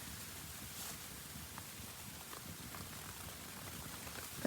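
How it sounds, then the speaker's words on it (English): Heavy snowfall in a winter camping spot, a soft, steady patter like rain falling on a surface, faint and continuous, with no voices. "But that is heavy snowfall. It is coming down."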